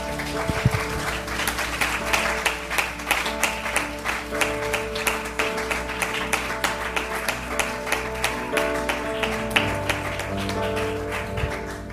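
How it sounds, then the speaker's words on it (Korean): A church congregation claps along in steady rhythmic beats during Sunday worship, the claps sharp and continuous over sustained keyboard chords that fill the room. "우리 하나님께 박수로 영광 돌리겠습니다"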